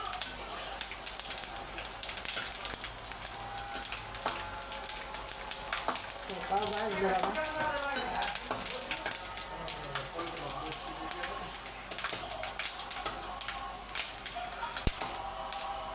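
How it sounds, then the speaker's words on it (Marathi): Grated coconut roasting in a hot pan for chuda gives a steady, dense sizzle with faint scraping and stirring. A voice talks quietly over it now and then. "चांगलं भाजायचं खोबरं. चांगलं लाल भरत भाजायचं."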